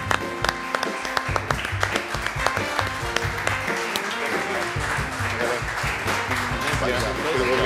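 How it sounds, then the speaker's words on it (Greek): A studio audience claps at a Greek talk show as a guest is brought on, with music playing under and around the clapping and talk continuing through it. "χειροκρότημα"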